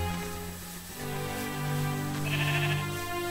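A Minecraft sheep bleats in two drawn-out, wavering calls, loud and close, with no other sound around it.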